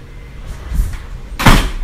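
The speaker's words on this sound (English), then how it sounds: "My cousin's door closed by itself." A door swings shut on its own, with a soft creak and rustle building before a single sharp thud of it closing, close by in a quiet room.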